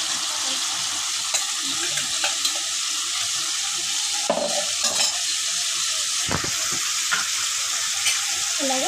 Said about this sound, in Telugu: ఇదైతే బాగా కలిపేస్తా. ఒకసారి చికెన్కి పట్టేలాగా అల్లం వెల్లుల్లి పేస్ట్, కొబ్బరి పొడి.